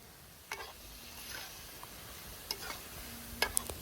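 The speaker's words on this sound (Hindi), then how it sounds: "शलगम को भी हम अच्छे से मिक्स कर लेंगे।" Fried turnips stirred into sauce in a pan for a Wazwan-style dish: quiet, low sizzling under a few scattered spoon taps and scrapes, faint and intermittent, with no speech.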